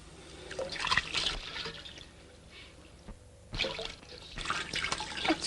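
In a quiet interior scene from a 1946 Indian film, water pours and splashes in uneven bursts, faint and hissy against a soft background, with louder gushes near the start and end.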